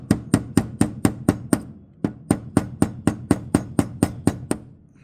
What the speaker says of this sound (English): Now you could do this with a drill. I'm going to do it with a little punch setup.